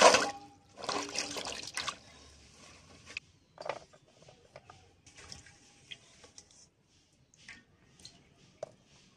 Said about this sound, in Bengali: বেগুনটাকে ধুয়ে নিচ্ছি। ডাঁটাটা ধুয়ে নিচ্ছি